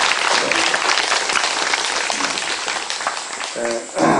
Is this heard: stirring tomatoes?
no